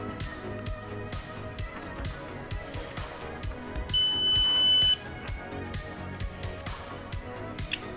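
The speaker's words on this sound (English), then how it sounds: "Alarm goes off, hopefully scares my cat away." A homemade cat-scare alarm goes off near 4 seconds with a brief steady tonal beep, sounding through a busy background of music-like rhythmic sound for about a second.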